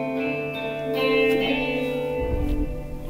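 A spring reverb unit in a studio rings out held musical tones with a long metallic wash as its reverb time is adjusted, ending in a low rumbling swell.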